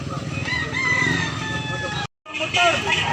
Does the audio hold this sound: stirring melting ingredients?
no